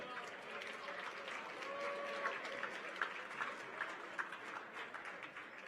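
Audience applause at a live Florida State University Seminole Showcase preview event, a steady wash of many hands clapping at moderate distance, with a few brief sharper accents and faint voices mixed in.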